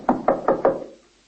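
A radio drama sound effect of someone knocking on an office door in a police precinct: four firm, evenly spaced wooden knocks, close and loud, followed by silence.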